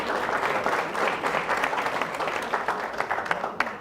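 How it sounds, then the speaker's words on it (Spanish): A room of course participants applauds for a classmate, a lively patter of many hands at close range, fairly loud and steady with a few louder individual claps toward the end. "Un aplauso para Florencia"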